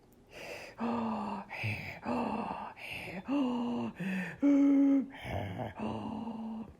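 A voice does a breathy, raspy imitation of monster panting, a series of rough drawn-out breaths in steady rhythm, close and fairly loud.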